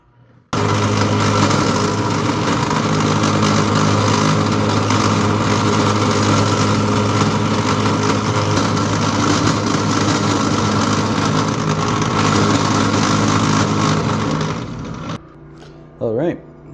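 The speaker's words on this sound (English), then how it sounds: "Let's turn the mill and drill." Benchtop mill and drill machine milling a metal knife part, loud steady motor whine and cutting noise running for about fifteen seconds before stopping abruptly, followed by a short quiet tail.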